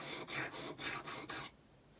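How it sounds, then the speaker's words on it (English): A blade is drawn across an oil or dry sharpening stone to take off the burr: five quick, even rasping strokes in a row, close and fairly quiet, then silence. "35 degrees on your oil stone or your dry stone. Take the burr off at the back"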